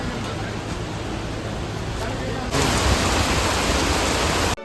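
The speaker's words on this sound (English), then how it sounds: "I'm waiting outside gate number 1 and it's currently raining." Steady rain pours down outside an entrance gate, a dense hiss that swells louder halfway through and continues without a break until it cuts off at the end.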